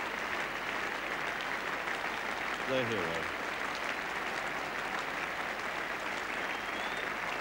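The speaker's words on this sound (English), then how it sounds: "the Headingley crowd rising to welcome home" A Headingley cricket crowd applauds Geoffrey Boycott's innings of 191 during the 1977 England v Australia Test. The clapping is faint, distant and sustained beneath a commentator's talk.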